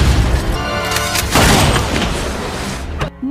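Loud gunfire and heavy booming impacts in an action film, a dense barrage of blasts rolling together with a sharp final crack, all close and overwhelming.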